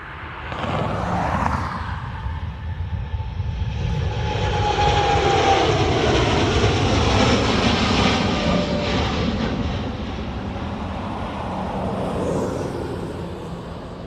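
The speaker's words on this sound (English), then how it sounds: "Get this takeoff." An airliner takes off at Dublin Airport, its engine roar swelling steadily to a loud peak over several seconds, then slowly fading as it climbs away, heard from a distance with no talking.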